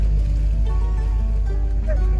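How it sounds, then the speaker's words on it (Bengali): A sand-carrying trawler boat chugs along the Turag river, its engine a steady low drone with a humming tone that stays constant and close, with no voices over it. "আমার পিছনে দেখতে পাচ্ছেন বালুর ট্রলার যাইতেছে"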